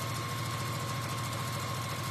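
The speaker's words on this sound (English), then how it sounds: "I'm just stitching down here" A sewing machine runs in one continuous, even hum as it stitches a seam on a fabric bag, close and fairly quiet, with no talking over it.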